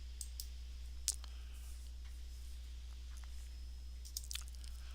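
Several light computer mouse clicks on a desktop computer while logging in to an online ordering page, scattered and fairly faint over a steady low hum.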